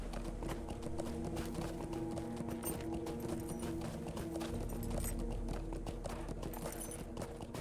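Hooves clip-clop in a fast, rhythmic gallop as a horse runs in the video game Lord of the Rings Online. The pounding stays steady and fairly quiet under soft game ambience, with no talking.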